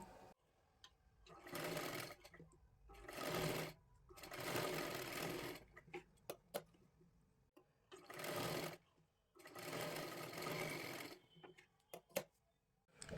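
A sewing machine stitches lace onto the edge of a boat-neck blouse, running in several loud bursts of rapid whirring with quiet pauses and small clicks between runs.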